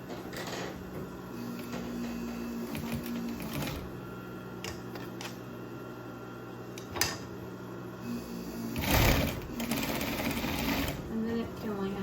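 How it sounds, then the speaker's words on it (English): Sewing machine stitching fabric for a Christmas stocking at home, a steady low mechanical hum with a brief louder burst of stitching near the end, close by, with a voice talking quietly underneath. "So I'm going to go up 1 inch and sew this on."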